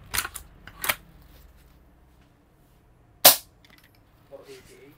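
A G&G Levar airsoft rifle fires a single sharp crack through a chronograph, preceded by a couple of softer mechanical clicks, with a faint voice murmuring briefly afterward.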